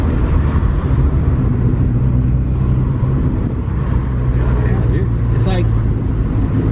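Steady low drone of a turbocharged B18B1 engine in a Honda Integra DB1 on the move, continuous and fairly loud, with faint voice-like sounds mixed into the rumble.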